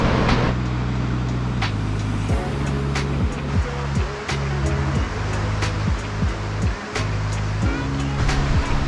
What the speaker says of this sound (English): look at the waves, man.